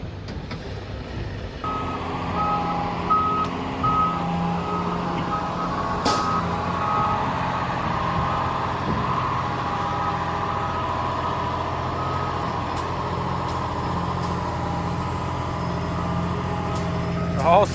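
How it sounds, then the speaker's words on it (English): A short delivery truck reverses up a hill while its reversing alarm beeps at a steady repeating pace, with the engine laboring underneath and occasional clanks and bursts of noise. "now we're gonna see if he can back up to the top of that hill and get offloaded."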